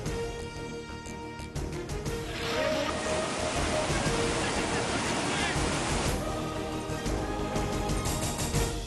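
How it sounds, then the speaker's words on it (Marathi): Heavy cloudburst-like rain floods a bridge over the Sina river in Nagar, with a loud, steady roar of rushing water and downpour that surges and continues without a break. "नगरमध्ये ढगफुटी सदृश्य पावसामुळे सीना नदीवरील पूल पाण्याखाली"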